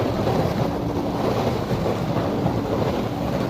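A Miele dishwasher running with clean water after repair: a loud, steady broadband rush of churning and spraying water with a low rumble underneath, continuous and close, no talking.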